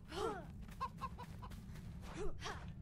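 A turkey in the Enshrouded game gobbles and clucks in a few short bursts over a steady background hum, faint and close.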